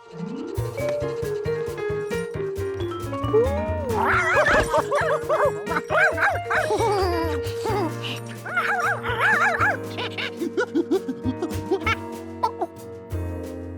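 A cartoon dog yips and barks in a lively run over a bright animated music score, with the barks loud and close and mixed into the melody throughout.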